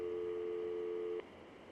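A phone ringing tone in the Syberia adventure game: one steady, clear electronic tone holds for just over a second, then cuts off abruptly, with no voices.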